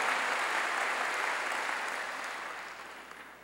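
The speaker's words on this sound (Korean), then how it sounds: "박수로 하나님께 영광 돌리고" A church congregation applauds during a Korean pastor's sermon. The applause is a steady, moderately faint wash of many hands clapping that gradually dies away over a few seconds, with no clear speech over it.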